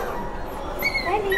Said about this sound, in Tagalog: Ito yung aso.